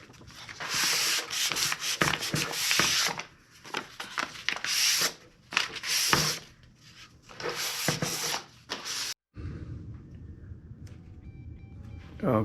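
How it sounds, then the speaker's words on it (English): Hand sanding of a wooden serving tray with 400 grit sandpaper, a steady close rubbing and scraping in short back-and-forth bursts with brief pauses, ending in a quieter stretch of faint background noise. "I'm just going to go over it real quick with some 400 grit sandpaper"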